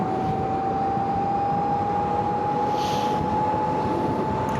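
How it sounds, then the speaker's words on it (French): A BMW CE-02 electric motorcycle's brushless motor at around 70 km/h, a steady whine under constant road and wind rush, with no talking. "le moteur, tu l'entends, mais il te dérange pas"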